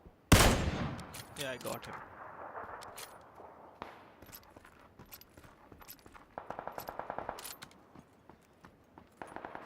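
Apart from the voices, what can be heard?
gunfire in the video game PUBG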